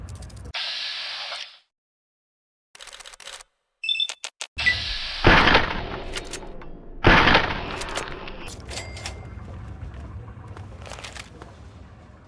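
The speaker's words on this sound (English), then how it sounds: "Think you can take care of that with your BB gun? Just aim and shoot." Several BB gun shots fired at a radroach in a video game: a few short sharp cracks spaced apart, with a hissing burst, clicks and game ambience in between.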